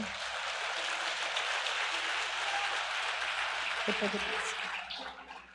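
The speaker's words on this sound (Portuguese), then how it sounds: "Você pode aplaudir ao Senhor?" Worshippers clap for the Lord at a church conference service, a full, even roar of applause from a large gathering over a low musical drone, thinning and fading away at the end.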